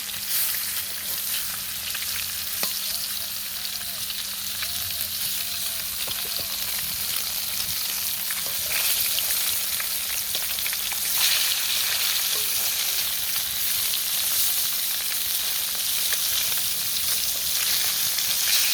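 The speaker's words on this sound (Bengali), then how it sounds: "মাছটা এক পিস ভাজা হয়ে গেছে আর উল্টিয়ে দিয়েছি আর এক পিস ভাজার জন্য" Pieces of fresh fish frying in oil in a kadai, a continuous dense sizzle and crackle that holds steady the whole time, close and fairly loud, with faint background noises underneath.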